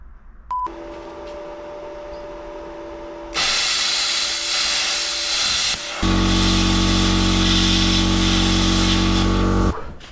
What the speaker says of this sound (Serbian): Pošto sam uspešno testirao Parkside-ovu plazma cutter ili plazma sekač